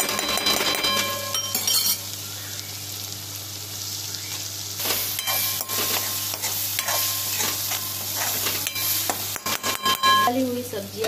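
Pav bhaji vegetables frying in oil over a low flame, sizzling steadily while a utensil stirs and clinks against the pan nearby, under a constant low hum.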